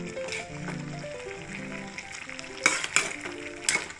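Malabar spinach curry fries with a soft, steady sizzle in a pan while a utensil stirs it, and a few sharp scraping strokes sound close up near the end.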